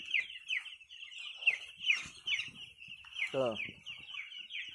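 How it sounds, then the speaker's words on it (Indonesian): Nine-day-old Malindo broiler chicks in an open-house coop peep constantly in a dense, high chirping chorus, with a voice briefly underneath. "ini keadaan ayam-ayam saya, Pak"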